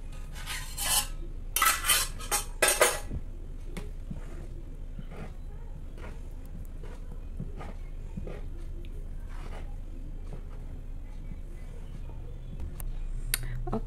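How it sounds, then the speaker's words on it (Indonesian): A utensil stirs zebra sponge cake batter made with only egg whites in a bowl, giving a cluster of scraping, clinking strokes early on, then quieter intermittent scrapes and taps with no one speaking. "Pastikan tidak ada yang mengendap di bawah adonan. Jadi benar-benar harus diaduk."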